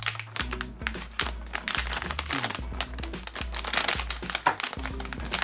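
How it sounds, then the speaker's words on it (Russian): A plastic bag crinkles and rustles steadily up close as a GIGABYTE GeForce GT 730 graphics card is pulled out, with quiet low background tones underneath and no talking. "Достаем видеокарту из пакетика."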